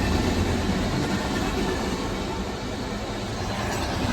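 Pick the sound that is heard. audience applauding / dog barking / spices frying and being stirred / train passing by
train passing by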